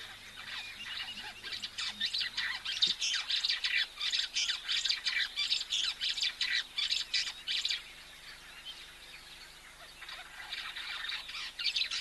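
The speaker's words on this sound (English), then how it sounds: "The birds are very chirpy today." Birds at an African waterhole chirp and squawk in a dense, continuous chorus of sharp repeated calls, moderately distant and steady throughout, with no talking.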